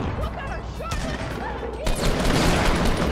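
A grenade goes off in a Fortnite Battle Royale match, a sudden loud burst near the two-second mark with broad crackling debris that carries on to the end, over steady game noise.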